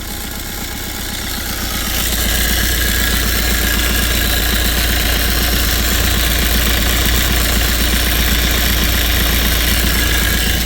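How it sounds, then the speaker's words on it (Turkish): A Fiat Albea Multijet diesel engine with about 185,000 km idles loudly and close up while its pulley wobbles. The steady, rough, rhythmic clatter swells slightly after the first two seconds and then holds constant. "Kasnak yalpalı dönüyor."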